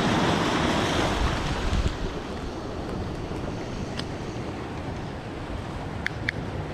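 Strong winter northwest wind buffets the microphone at a seaside breakwater, a steady loud roar mixed with surf washing in, with a few faint clicks near the end.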